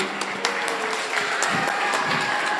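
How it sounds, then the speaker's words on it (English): A crowd at a robotics competition claps steadily in sustained applause, dense and fairly loud, with a few sharper claps standing out and faint voices mixed in. "Can we get a round of applause for how quiet we were that whole time?"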